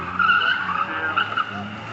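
A car's tyres squeal and skid on an AutoTest circuit during a motorsport day at Brooklands, a sustained high screech for about two seconds heard from fairly close.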